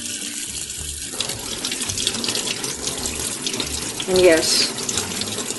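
Tap water runs steadily over a doll's face, with a brief louder splash and gurgle near the end and a short spoken remark over the flow.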